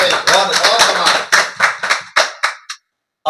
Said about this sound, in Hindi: एक बार ताली होनी चाहिए अच्छे मन से।